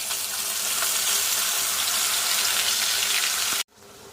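Masala frying in hot oil for a curry, a steady loud sizzle that runs unbroken, then abruptly drops to a quieter hiss near the end.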